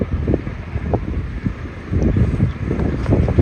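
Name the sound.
wind blowing at a cricket ground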